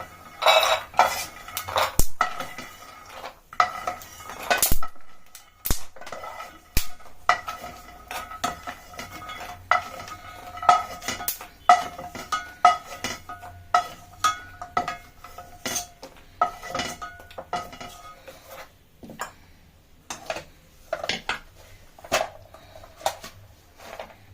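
Roasted almonds tipped into a bowl, with repeated clinks and clatters of dishes and a spoon scraping, sharp close knocks scattered irregularly throughout with no talking.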